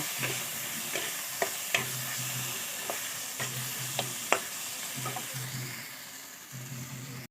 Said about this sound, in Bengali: একটুখানি জল দিয়ে ভালো করে কষিয়ে নেব